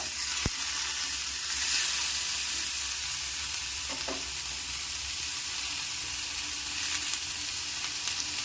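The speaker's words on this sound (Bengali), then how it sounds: "টমেটোটাকেও একটু ভালো করে নাড়াচাড়া করে নেব" Tomato frying in a pan as it is stirred, cooking for a Bengali sapune shak recipe, with a continuous low sizzle, an occasional clink of the spoon and a few soft scraping strokes.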